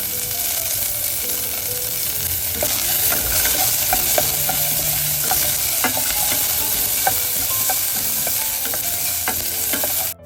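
Onions and fennel seeds fry with a steady, loud sizzle in a pan, with scattered stirring scrapes throughout and no voices.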